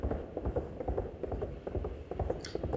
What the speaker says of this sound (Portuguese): Ele monta no cavalo baio e começa então a galopar.